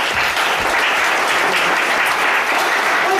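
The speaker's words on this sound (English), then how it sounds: "Give Tom a round of applause to stand up." Audience applause at a stage hypnosis comedy show, a loud, sustained wall of clapping from a large crowd, steady and even throughout with no talking.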